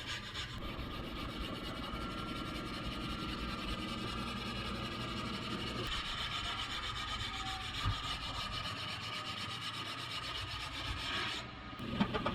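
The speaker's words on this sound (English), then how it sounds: "When sanding the first coat" Steady, continuous rasping of coarse 80-grit sandpaper rubbed back and forth over body filler on a car quarter panel, close and fairly quiet, with no talking.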